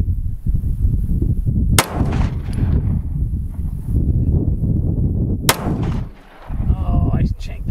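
An M&P9L handgun converted to a rifle fires two loud, sharp shots a few seconds apart over a noisy outdoor range, each crack followed by a short ring.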